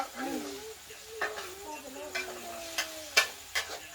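Eggs stir-fried in a pan, with a spatula making sporadic close clicks and scrapes that sharpen toward the end, under a soft background sizzle while a voice drones faintly behind.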